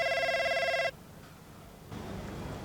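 A telephone rings in the F1 25 video game, a loud, bright electronic ring that cuts off abruptly, followed by quiet room tone.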